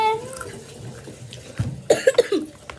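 A child coughing, a short run of four or five quick coughs near the end, close and moderately loud, after a stretch of low background noise and murmur.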